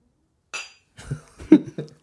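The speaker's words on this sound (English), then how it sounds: "You want to clink the water?" Water glasses clink together in a toast, a bright high clink followed by a few soft knocks and light rustling, close and quiet in a near-silent room, with no talking.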